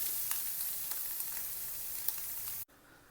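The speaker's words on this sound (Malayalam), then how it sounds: "ചട്ടി ചൂടായിട്ട് വരുമ്പോൾ അതിലേക്കൊരു 3-4 മുട്ട ഒന്ന് പൊട്ടിച്ച് വെച്ച് അതിനൊന്ന് സ്ക്രാമ്പിൾ ചെയ്തെടുക്കാം" Eggs scrambling in a hot pan for an egg thoran, a steady close sizzle and crackle with faint stirring taps that stops abruptly near the end.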